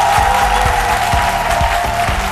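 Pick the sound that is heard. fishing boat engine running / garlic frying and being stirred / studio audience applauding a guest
studio audience applauding a guest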